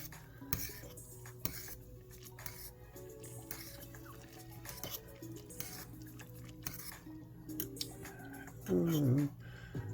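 A utensil stirs Nissin Demae black garlic oil tonkotsu instant ramen in a bowl or pot, with soft scraping and clinking scattered through, quiet and close, plus a brief rising squeak near the end.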